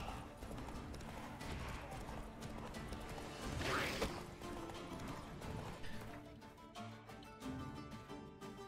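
Roach the horse gallops in The Witcher 3 with steady rhythmic hoofbeats, joined by a brief neigh partway through and game sounds underneath. The whole thing plays faint and low.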